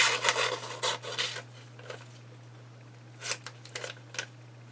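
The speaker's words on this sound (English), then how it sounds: "I'm going to take a pair of scissors for the moment and cut it down to this." Scissors snipping through a piece of material in a few short bursts, a cluster of quick cuts followed by a pause and another run of crisp snips, fairly close over a steady low hum.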